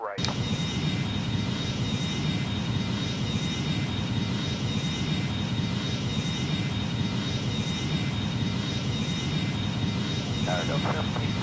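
Steady, loud jet engine roar from an Emirates Boeing 777 on its takeoff run in a flight simulator game, a continuous broadband rumble with a thin high whine throughout, while radio voices speak over it.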